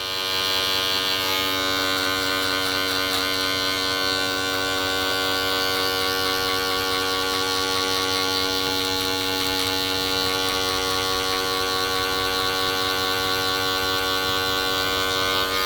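Electric hair clippers run at a barbershop during a first haircut, giving a steady, close, continuous buzz with a bright whine that holds evenly throughout and no talking.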